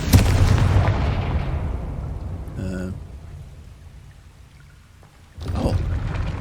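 In the Hogwarts Legacy video game, a Confringo fire spell ignites coals. A loud booming blast with a rumbling tail fades away, followed by a brief chime, and a second burst comes near the end.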